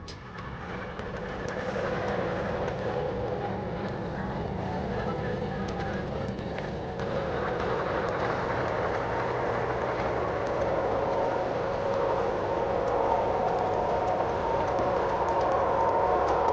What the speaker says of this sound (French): Regardez ce train qui arrive vers nous.